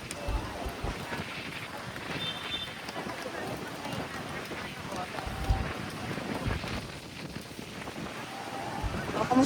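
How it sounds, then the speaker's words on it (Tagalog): Strong wind buffets the microphone in continuous rough gusts on a mangrove boardwalk in Boracay, Philippines, with faint voices and outdoor noise beneath. "Medyo malakas ang hangin."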